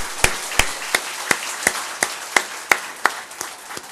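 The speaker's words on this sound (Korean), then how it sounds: "살아계신 우리 하나님께 영광의 박수 한번 하십시다" Congregation in a Korean church clapping in unison, about ten sharp, evenly spaced claps with a faint crowd murmur beneath, loud and close, no one speaking.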